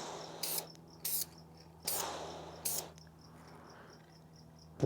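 A hand-shaken can of spray paint hissing through its nozzle in four short, loud bursts, with a faint steady hum and cricket-like chirping in the background.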